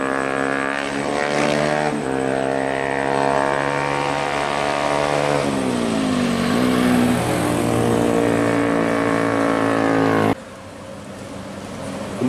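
An MPM intercity bus with an SR2 HD Prime body by Laksana passes on a Sumatra highway at dusk, its engine a loud steady drone with harmonics rising and falling as it goes by, then cutting off abruptly.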